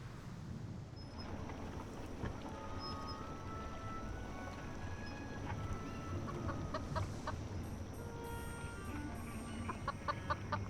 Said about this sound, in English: it attracted the attention of the curious chicken